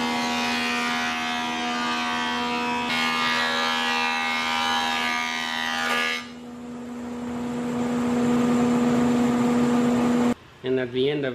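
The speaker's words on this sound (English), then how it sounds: "Now let's go to the planer." A wood planer hums steadily with a strong tonal whine and broadband roar while boards are prepared for picture frames, loud and continuous before cutting off abruptly near the end.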